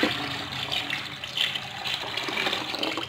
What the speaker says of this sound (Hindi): अब मैं इसमें ये उबला हुआ पानी ऐड करूँगी